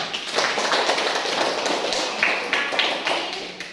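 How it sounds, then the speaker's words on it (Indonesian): Classroom applause for a student group after their presentation: steady, dense clapping from many hands through the whole stretch, fairly close, with a few sharper individual claps standing out and no talk over it. "tepuk tangan dulu"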